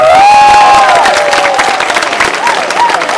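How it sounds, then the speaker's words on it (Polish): A concert crowd in Kraków applauds and cheers loudly, dense clapping with shouts and whistles rising over it, staying strong throughout. "Brawa!"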